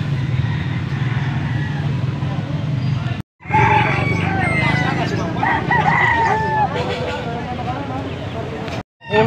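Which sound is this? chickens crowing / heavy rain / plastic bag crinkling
chickens crowing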